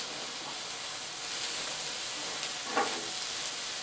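Squid or octopus tentacles fry in a hot pan, giving a steady bright sizzle throughout, with a brief louder scrape near the end as the pieces are stirred around.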